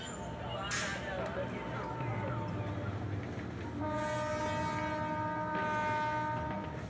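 A Mumbai commuter train rumbles along with a loud horn blast partway through, and its clatter continues under a narrator's voice.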